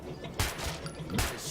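Two sharp gunshots in Metro 2033 Redux, separated by about a second, each a sudden bang with a short tail over a low ambient background.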